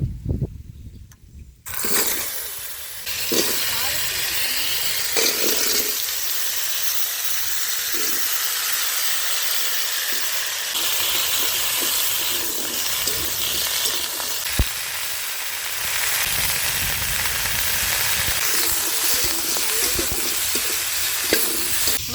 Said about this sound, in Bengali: আলু ভাজতেছে